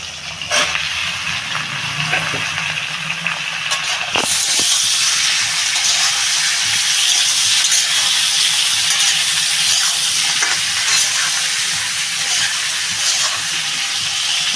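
Chopped kohlrabi tipped into a hot pan of oil that already held fried prawns: a sharp burst of hissing sizzle after a few seconds of quieter frying, then a steady loud crackle with occasional stirring clatter.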